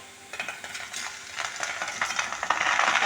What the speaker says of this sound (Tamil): காஞ்சதுக்கப்புறம் இதில் தக்காளியை நம்ம போடுறோம்.